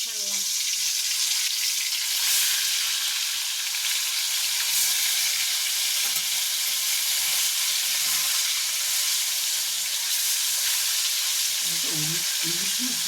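Fish sizzling and spitting in hot oil in a pan for a Bengali mustard-poppy seed fish dish, a steady loud crackling hiss throughout with occasional stirring clinks near the end.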